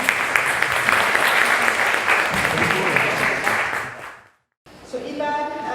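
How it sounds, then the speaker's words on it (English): A symposium audience at a Manila art gallery applauds for several seconds, the clapping thinning out before a brief silence, after which a voice begins speaking. "So let's give them a round of applause."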